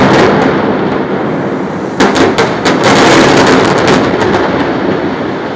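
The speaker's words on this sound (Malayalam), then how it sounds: "താഴത്തെ നിലയിലെ പ്രധാന തൂണിൽ ആദ്യ സ്ഫോടനം, പിന്നീട് തുടർച്ചയായി മാലപ്പടക്കം പോലെ ചെറു സ്ഫോടനങ്ങൾ മുകളിലേക്ക്," A controlled implosion brings down a high-rise apartment block, sounding as loud, booming blasts followed by a rapid chain of sharp cracks like a string of firecrackers, rolling and echoing for several seconds.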